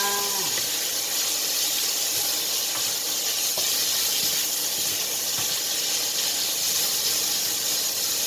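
Loud, steady sizzling and hissing of frog and chili stir-frying in a hot pan, with occasional scraping clinks, continuous throughout.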